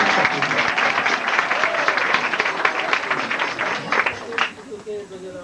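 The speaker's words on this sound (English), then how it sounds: "Sakhis were clapping." A crowd claps in steady, sustained applause that thins out toward the end as a voice begins to come through.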